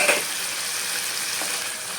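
Taro curry frying in a pan with coconut paste, a steady close sizzle that holds throughout with a few soft stirring scrapes and no talk.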